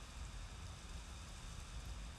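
Steady, even rain hiss from a video game, with a low rumble underneath, continuous throughout with no voices.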